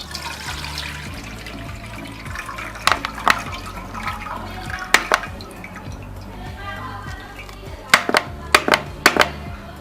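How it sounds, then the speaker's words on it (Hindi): Ginger water is filtered and poured from a bottle, giving soft trickling and dripping with a few sharp splashes and clinks in scattered bursts, close and fairly quiet. "इस पानी को आपने फिल्टर कर देना है।"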